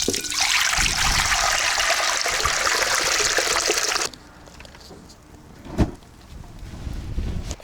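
Water trickles and drips off a freshly caught carp, a steady splashing rush for about four seconds that stops abruptly, followed by quieter faint drips and a single soft thud.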